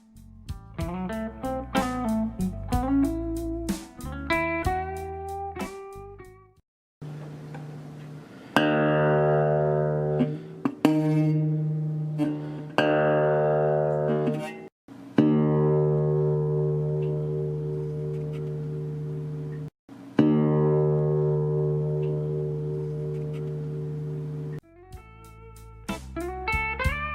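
Plucked guitar strings ring out in a run of notes and sustained tones, each note vibrating and slowly decaying, loud and clear with no voice over them.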